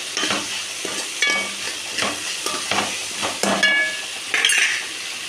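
A drumstick-leaf chutney mixture with tamarind is stirred in a hot pan, giving steady scraping and soft sizzling with light spoon knocks against the metal, close up and without talk.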